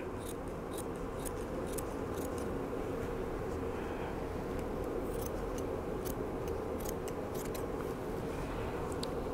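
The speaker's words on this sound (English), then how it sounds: "So I just cut out a piece of felt." Scissors snip through felt to cut out a leaf shape, making a run of quiet, quick cutting clicks spread across the whole stretch over a steady background hiss.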